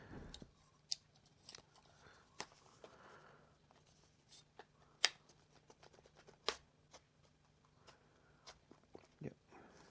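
Scissors snipping open the retail packaging of a Lexar RW300 dual-slot card reader, giving sparse, sharp close-up clicks and crinkly snips scattered across the stretch, with no talking.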